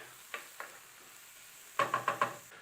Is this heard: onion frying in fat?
yes